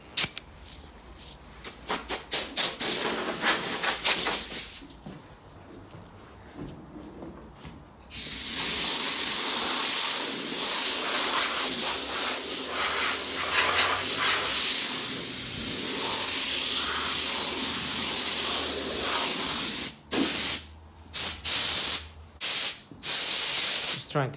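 Long steady hissing bursts of a spray gun spraying clear lacquer on a 1992 BMW E36 spoiler and mirrors in a dusty garage, starting and stopping several times, loud and close, with short pauses between passes.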